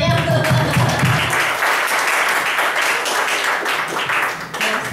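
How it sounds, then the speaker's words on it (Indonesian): A seated audience breaks into loud, continuous applause, briefly overlapping a voice at the start before the clapping fills the room on its own. "beri tepuk dulu dong semuanya"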